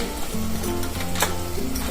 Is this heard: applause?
no